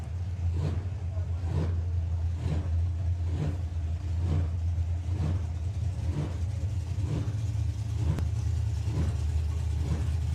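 A methanol-fuelled drag racing car at a hot rod drag event idles roughly and lopes, its engine loud and close, with a steady low rumble pulsing about once per second throughout.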